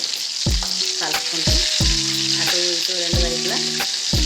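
KFC-style chicken frying in hot oil and being turned, with a loud, steady, close sizzle running under a series of stepped musical tones and a few soft utensil knocks.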